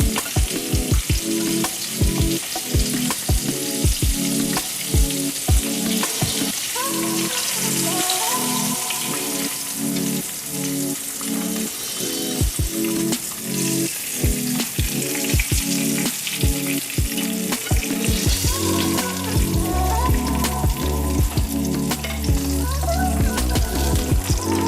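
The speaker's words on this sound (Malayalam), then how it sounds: "നല്ല ബ്രൗൺ കളറായിട്ട് വറുത്ത് പോരണം." Sesame-coated chicken pieces deep frying in oil until brown and crisp, a loud dense bubbling sizzle like heavy rain, with frequent sharp clicks of utensils against the pan.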